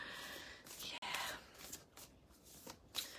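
Tarot cards shuffled by hand in a soft, continuous papery riffle and slide, close and moderately quiet, with brief pauses between bursts and no talking over it.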